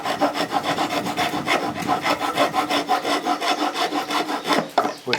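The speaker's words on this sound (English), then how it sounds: "With a nice heavy duty old wood rasp here." A heavy-duty old wood rasp shapes a mortise with steady, evenly paced scraping strokes, close and constant throughout.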